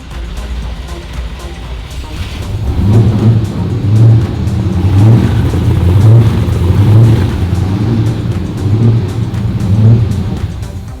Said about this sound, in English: I finally got the car to start up and crank up.